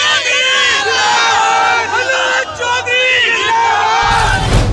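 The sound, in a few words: large cheering crowd at political rally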